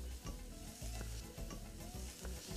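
Garlic sizzles in oil in a hot frying pan while cooking salt cod with pepper sauce, a steady close crackling broken by faint stirring scrapes, with no talk.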